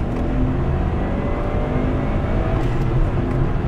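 Subaru WRX STI in Java Black Pearl pulling hard under acceleration from inside the car, a steady loud engine drone with a rising pitch and no talk.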